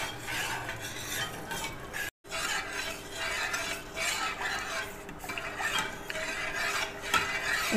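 A spoon stirs cornflour and sugar custard in a pot over a stove flame, giving a steady, close scraping and swishing texture that runs throughout with one brief silent gap.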